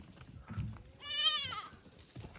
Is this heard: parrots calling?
no